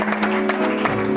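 Congregation at a French-language church service clapping and cheering in praise, a brief dense burst of applause under a sustained musical tone.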